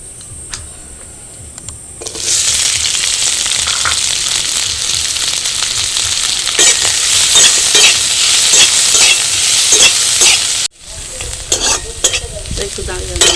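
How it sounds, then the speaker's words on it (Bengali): Onions fry loudly in hot oil in a pan, a dense crackling sizzle that starts abruptly after a quieter moment, runs strong and steady, and briefly cuts off before resuming. "এবারে আমি তেল দিয়ে পেঁয়াজটা ভেজে নেব।"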